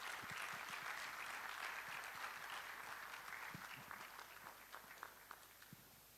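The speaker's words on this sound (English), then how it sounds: "A round of applause," Sustained audience applause at the Annual General and Scientific Meeting of the Ghana College of Physicians, a dense steady wash of clapping from a large hall that thins slightly toward the end.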